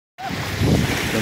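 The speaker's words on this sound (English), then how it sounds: "the wind picked up. And now we got hella waves." Wind gusts and choppy waves on a lake, a steady broad rush of water and wind noise buffeting the microphone after a brief silence.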